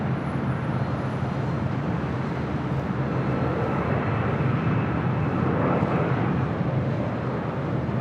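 An airliner taking off from runway 6 left at LAX, a broad low rumbling roar of jet engines heard from a distance, steady and sustained with a slight swell partway through.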